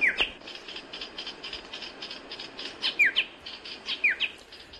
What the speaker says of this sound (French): c'est le chant donc du monarque de Tahiti